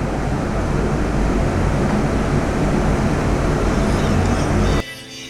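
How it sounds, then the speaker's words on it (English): Turbocharged 632 cubic inch big block Chevy making about 2200 hp, running hard on a dyno on VP C16 fuel as a dense, loud, continuous roar that cuts off abruptly near the end. "We're testing this engine on VP fuel"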